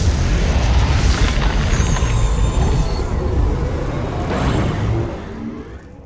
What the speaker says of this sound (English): Ion cannon activated.